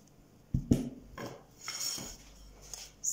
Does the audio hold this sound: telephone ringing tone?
no